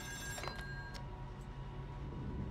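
A telephone rings in the video game Still Wakes the Deep, a steady electronic ring over a low background hum, with no talking.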